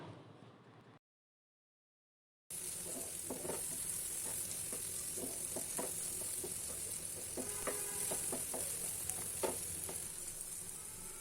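Sliced onions fry steadily in a pan with salt, a dense continuous sizzle after a brief silent gap, with scattered scraping stir clicks and no voices.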